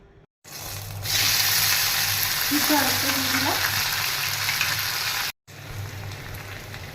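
Boiled potatoes frying in oil in a pan for a Bengali potato and black pepper dish, a loud continuous sizzle with stirring scrapes, cut off briefly near the end and then resuming.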